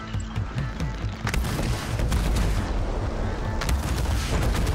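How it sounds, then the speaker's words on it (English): Cluster bombs bursting in mid-air in the video game Horizon Forbidden West, a dense run of booming blasts that keep up a loud, continuous rumble, with sharper cracks near the start and again toward the end. "Cluster bombs. Oh, okay, this one sort of detonates mid-air."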